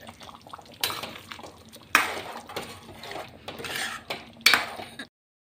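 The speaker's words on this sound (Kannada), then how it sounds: "ಇದಕ್ಕೆ ಸ್ವಲ್ಪ ಗರಂ ಮಸಾಲ ಹಾಕಿ ಚೆನ್ನಾಗಿ ಮಿಕ್ಸ್ ಮಾಡಿಕೊಳ್ಳಿ" A utensil clanks and scrapes against a pan while garam masala is mixed into methi chicken curry, with a few louder knocks between softer stirring, close by, before the sound cuts off.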